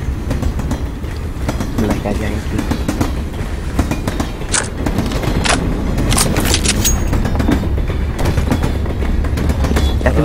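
A train rolls along the tracks in the game Counter-Strike: Global Offensive, a loud continuous rumble with rhythmic clicking from the wheels and occasional bright metallic clanks, steady throughout.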